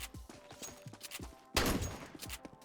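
MAG-7 shotgun in Counter-Strike 2, with several shots followed by pump-action clacks in a quick rhythm and one louder, heavier blast midway, all close and fairly faint overall.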